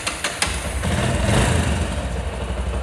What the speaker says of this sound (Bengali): বাইকটা আমরা স্টার্ট দিব